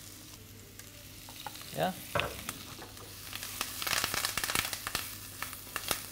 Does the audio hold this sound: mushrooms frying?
yes